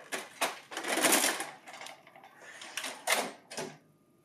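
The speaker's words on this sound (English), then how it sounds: "Insert tray 2." Paper tray 2 of a large office printer being pushed in, with a series of plastic sliding rattles and clicks ending in a couple of sharp latching knocks, close and alone.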